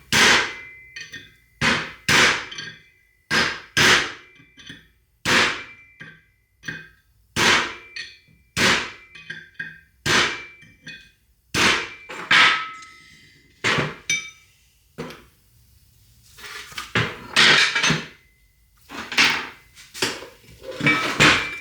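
Heavy hammer blows knock a stuck hub bearing race out of a 1986–95 Toyota IFS front hub, with a scrap race used as a driver. Around twenty loud, close metallic strikes land in irregular bursts with short pauses between.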